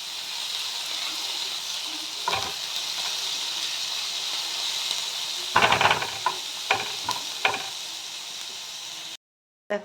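Onions frying with garlic in a pan for Punjabi-style mustard greens: a steady, even sizzle runs throughout, broken by a few louder crackling bursts near the end, with no talking.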